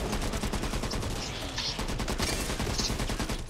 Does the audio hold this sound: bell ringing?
no